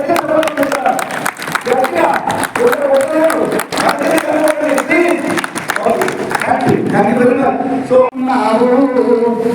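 An audience claps at a memorial meeting, with steady applause from a crowd running throughout while a voice talks loudly over it.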